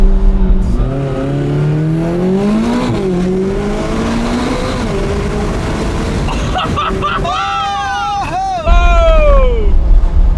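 McLaren 570GT engine accelerating hard on a road up a volcano: a loud, close rising whine climbs through several gear changes, with sharp rev spikes near the end and excited voices reacting over it.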